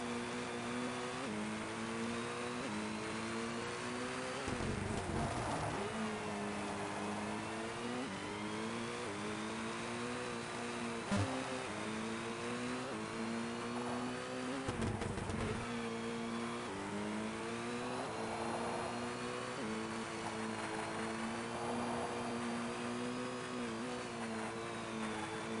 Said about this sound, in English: I'm just happy watching car go vroom.